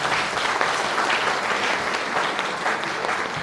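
Steady applause from an awards ceremony audience at the British Hazara Award in Birmingham, a dense, even wash of clapping that holds at full strength for the whole stretch with no voices over it.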